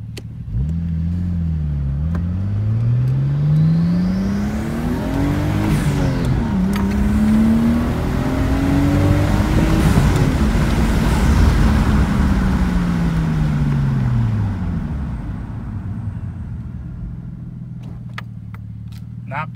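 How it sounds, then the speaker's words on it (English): A turbocharged car engine revs hard and roars past, pitch sweeping up and down as it approaches and recedes, with its blow-off valve, then fades into the distance. "I did that little drive-by thing for you guys just because this car has an awesome blow-off valve"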